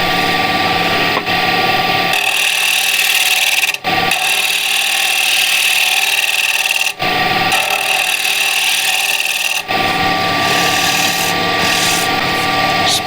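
A spindle gouge cutting wood on a lathe, shaping a tray rim; a steady, loud scraping hiss runs continuously, broken by three brief dips where the tool lifts off the spinning workpiece.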